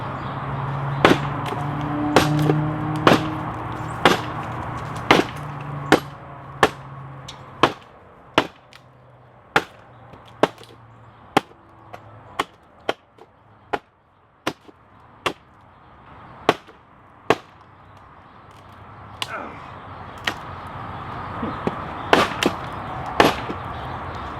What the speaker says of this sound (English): I will be chopping into that same piece of 2x6 lumber